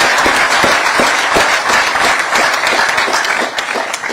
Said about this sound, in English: give them a round of applause for their outstanding leadership that you've shown in the city